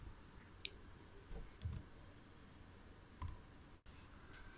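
Computer mouse clicks, several sharp isolated clicks including a quick pair, close and faint over a low background hiss while editing text on a PC, with no talk.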